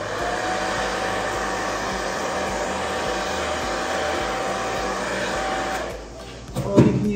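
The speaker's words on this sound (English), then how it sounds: "And then you can use either a hairdryer" A hair dryer blows acrylic pouring paint across a canvas, giving a loud, steady whooshing hum that runs for about six seconds before cutting out, followed by brief handling noises.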